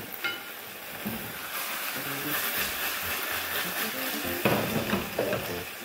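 Seitan and artichokes with spring onion sizzle steadily in a pan, a continuous close frying hiss broken by occasional soft clatters of stirring.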